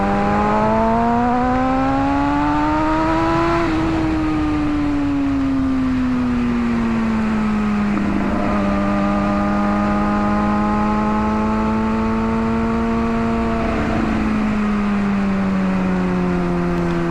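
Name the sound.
2007 Kawasaki Ninja ZX6R motorcycle riding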